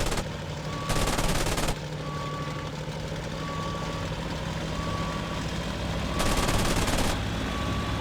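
Gunfire in the IL-2 Sturmovik flight sim video game from 2001, two long bursts of rapid machine-gun fire over a steady aircraft engine drone, with faint repeating beeps.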